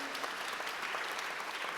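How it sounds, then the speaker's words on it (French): Applause from an audience at a French business innovation awards ceremony in Sainte-Foy-lès-Lyon, steady dense clapping filling the whole moment with no voices. "on les applaudit à Sainte-Foy-les-Lyons"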